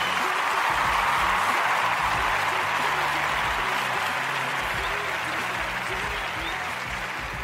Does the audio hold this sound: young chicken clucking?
no